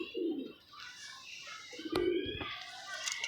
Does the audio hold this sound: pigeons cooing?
yes